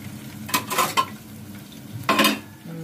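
Cauliflower, meat and green fenugreek cooking in a pot are stirred, giving two clusters of close scraping and clattering over a low sizzle.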